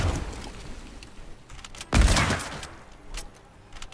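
Gunfire in the video game Fortnite, a fast burst of close shots with one loud heavy blast in the middle, followed by scattered fainter shots.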